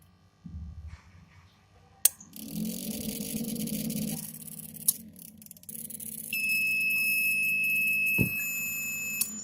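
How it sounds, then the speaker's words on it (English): Homemade Arduino-based home automation security alarm, Bluetooth and voice controlled, sounding off: a sharp click, then a steady electronic tone enters midway and holds loud and continuous alongside background hum and clatter, with no talking. "it activates the alarm as well as the light, LED light"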